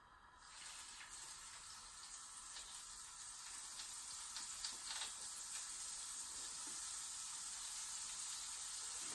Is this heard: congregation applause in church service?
no